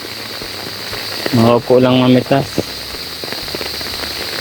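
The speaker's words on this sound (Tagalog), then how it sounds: "kahit malakas ang ulan." Heavy rain falls steadily in a mulberry orchard during a harvest, a loud hiss throughout, with someone speaking briefly over it.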